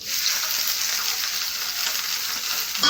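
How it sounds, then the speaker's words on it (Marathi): Chopped onions fry in about three spoons of hot oil with a steady, dense sizzle that holds evenly throughout, close and fairly loud, with no speech. "तेल काही जास्त लागत नाही याला, तर मी 3 चम्मच तेल ॲड केलेलं आहे आणि गरम झालेलं आहे तेल. आता याच्यामध्ये कांदे ॲड करते."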